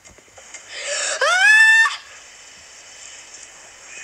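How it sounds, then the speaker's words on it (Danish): A loud bird squawk in the video game 99 Nights in the Forest, a rising harmonic cry lasting about a second after a rough buildup, over quiet ambient background. "Nej, det er en fugl efter mig!"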